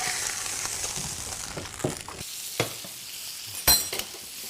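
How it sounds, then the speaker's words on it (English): Steaks fry in olive oil with thyme and garlic, a loud close sizzle that thins after a couple of seconds, with scattered clinks and scrapes from the pan. "That fried thyme, that garlic. Nothing's burning, and that's why we started off with olive oil."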